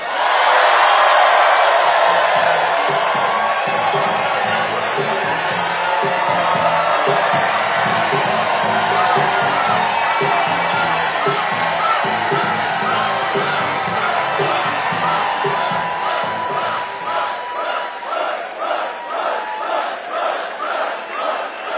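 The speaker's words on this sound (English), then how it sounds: "Wow, what a crowd! You can hear you from the next block." A large crowd at a presidential campaign rally in Raleigh roars and cheers continuously, loud and dense, with shouts and whoops, settling into rhythmic clapping toward the end.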